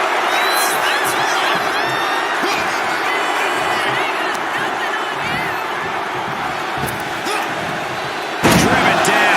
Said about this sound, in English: Mark is really getting the crowd going.